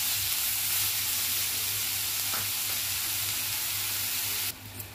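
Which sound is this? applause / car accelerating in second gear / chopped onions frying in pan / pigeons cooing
chopped onions frying in pan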